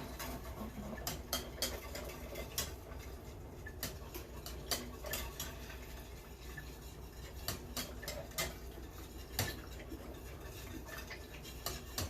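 A whisk clicks and taps quickly against a pot as cheese sauce for baked mac and cheese is stirred, a quiet, steady, rhythmic scraping that carries on with no one talking.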